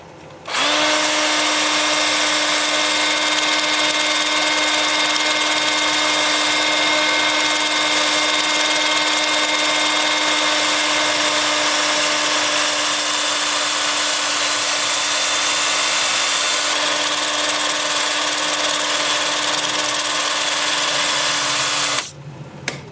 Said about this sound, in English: 500 RPM, lathe spinning forward, 2-inch sanding disc at 80 grit